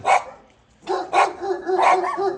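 Dogs barking close by, a sharp bark, a short pause, then several rapid barks and yelps in a cluster.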